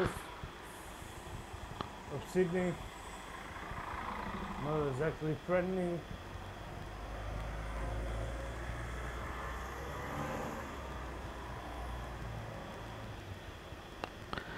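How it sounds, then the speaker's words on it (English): City traffic among buses in central Sydney near the Town Hall, a steady low rumble of engines with passing vehicle noise and a brief squeal, while someone talks over it. "Riding among the buses again. Where all the buses are."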